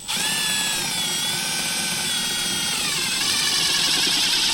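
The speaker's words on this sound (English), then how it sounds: "So I put the wrench on the bottom nut, impact on the top nut, and start crushing them down." An impact wrench tightens the top nut on a portaled Jeep Rubicon's suspension crush-lock fitting, one loud continuous close-up whirring hammer burst that runs the whole time with no speech.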